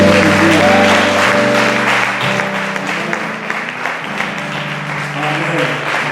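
Church congregation applauding loudly and steadily together over sustained organ or keyboard chords, with voices mixed into the clapping.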